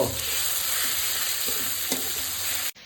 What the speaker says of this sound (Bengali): পরিমাণ মতো নুন দিয়ে দেবো সব কিছুকে ভালো করে আবার কষাবো